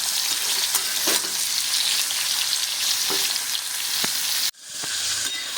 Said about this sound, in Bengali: এবার আমি ঝিঙেগুলো খুব ভালো করে তেলে ভেজে নেব